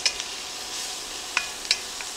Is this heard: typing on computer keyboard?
no